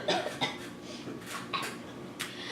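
A person coughing several times in a casual indoor setting, short harsh bursts spaced irregularly, fairly close and moderately loud.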